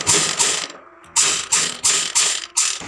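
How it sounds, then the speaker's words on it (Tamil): Sewing machine stitching lace onto a blouse back neck: four or five short, loud mechanical whirring bursts of rapid needle strokes, separated by brief pauses, close-up with no talk. "அதே மாதிரி ஆப்போசிட் சைட்லேயும் தையல் போட்டுக்கணும்"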